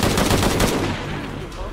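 A loud, close burst of rapid machine-gun fire from the video game Shadow of the Tomb Raider, sounding as a quick run of shots that fades slightly toward the end.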